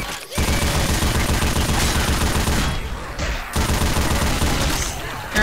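A turret fires nonstop in the video game Left 4 Dead 2, a loud, dense roar of rapid gunfire that runs almost the whole time with only a brief dip near the middle.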